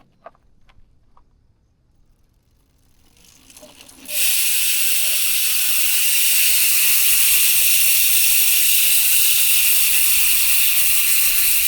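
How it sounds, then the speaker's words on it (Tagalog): Rapid, steady mechanical ticking of an Aerowick AN7 mountain bike freehub on a Giant Talon 3 spinning freely, loud and close. It begins abruptly after a few faint clicks and continues evenly. "MTB hubs kapag naka-free wheel."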